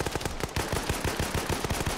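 In a military shooter video game match, rapid automatic gunfire rattles continuously in dense bursts, loud and sustained across the whole stretch with no talking.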